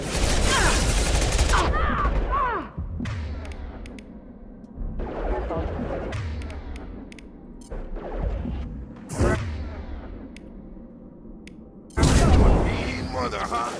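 Pistol shots and combat effects in the sci-fi video game Mass Effect, bursts of sharp blasts and booms separated by pauses, with a voice talking over the fighting.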